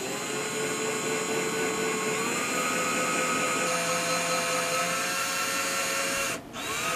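Power drill pre-drilling mounting holes in a cabinet for outlet boxes, a steady whining motor drone that holds pitch for several seconds, shifts slightly mid-run, then cuts out briefly near the end.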